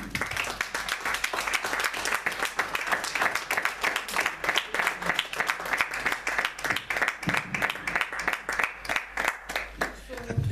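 An audience at a thought-performance event claps steadily for about ten seconds, many hands producing a dense, fairly close, rhythmic applause with faint voices underneath.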